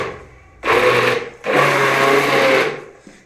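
A mixer grinder whirs loudly as it grinds saag greens, running in two bursts, a short one and then a longer one, each a steady high-pitched whine that stops abruptly, heard up close with no talk.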